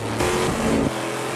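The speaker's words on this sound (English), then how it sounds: "That's the sound of an aluminum block titanium valve V8 pushed to the limit." An aluminum-block, titanium-valve V8 race car engine screams past at high revs during the Petit Le Mans endurance race, the pitch shifting as it goes by, then dropping away to a lower roar.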